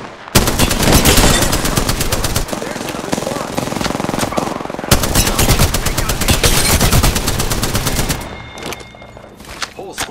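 Rapid automatic gunfire from the video game Apex Legends, loud and sustained in long dense bursts with brief pauses, ending in quieter scattered shots.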